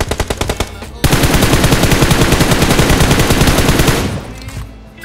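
Rapid automatic gunfire in PUBG on the Livik map: a short, rhythmic burst, then a loud, sustained stream of evenly spaced shots lasting about three seconds before cutting off into quieter tail.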